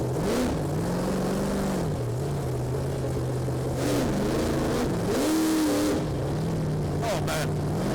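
A monster truck's big engine revs loud and close while it drives figure eights, its pitch rising and falling in repeated surges over a constant roar.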